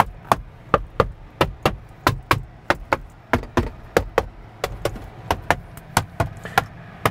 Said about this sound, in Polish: Gdzie nie pukniecie, gdzie nie stukniecie, to nieważne, czy jest to konsola środkowa, schowek, czy to są boczne drzwi